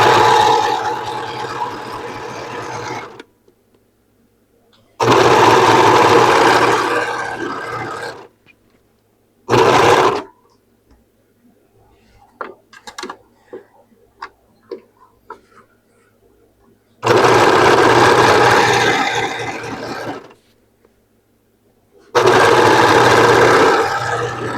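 A sewing machine stitches dress seams in several loud, sustained whirring bursts, separated by quiet pauses filled with light clicks and handling taps.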